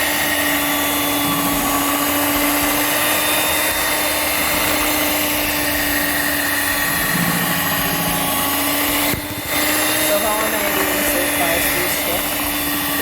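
Electric mixer whirring steadily through fruitcake batter, a loud, constant motor drone lasting the whole stretch with one brief dip, while a person talks over it.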